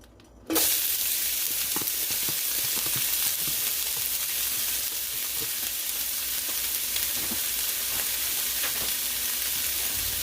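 Onions for a veggie-filled shakshuka hit a hot pan and set off a loud, steady sizzle that holds for about ten seconds, with faint scraping and stirring beneath it.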